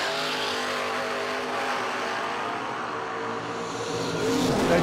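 Drag race cars launch at a no-delay nationals event, a Camaro and a 1978 Malibu wagon, their engines giving a loud, harmonic rasping roar that builds and rises toward the end.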